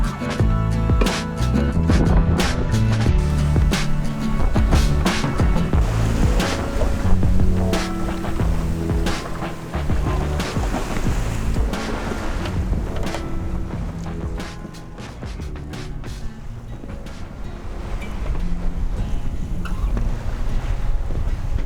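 Sailboat runs close-hauled on open ocean toward Anacapa, with continuous rushing waves, hull slaps and wind buffeting the microphone throughout, loud and steady.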